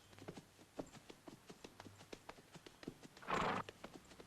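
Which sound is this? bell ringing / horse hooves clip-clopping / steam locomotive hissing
horse hooves clip-clopping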